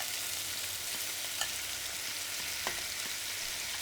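Daikon radish stir-frying in a frying pan, a steady broadband sizzle holding throughout with a couple of faint utensil clicks and no voices.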